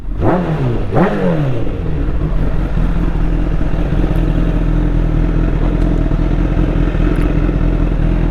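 A Honda CBR1000RR motorcycle with a full SC Project exhaust system is blipped twice with quick, rising revs, then settles into a loud, steady idle rumble close by, with no talking.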